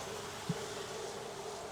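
Honey bees buzz faintly around a sparse outyard hive in Jacksonville, Florida, a thin steady hum lasting under two seconds with a tiny soft knock midway.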